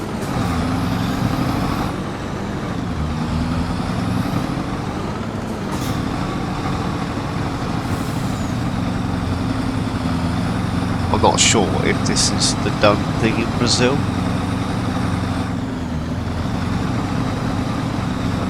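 A truck in the video game Farming Simulator on a Brazilian Matopiba map, its engine rumbling low and steady as it drives into a field, with a few hissing air bursts and someone talking over it.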